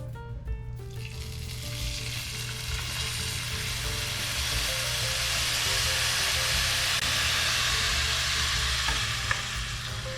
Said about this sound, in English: I'm gonna add this water real slow